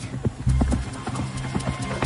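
A horse ridden in a cartoon riding lesson clip-clops steadily at a close, even rhythm, with scattered faint voices and a brief whinny-like tone mixed under the hoofbeats.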